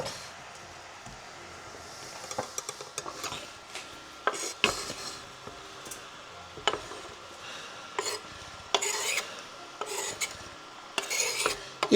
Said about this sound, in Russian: когда мы добавим сюда капусту.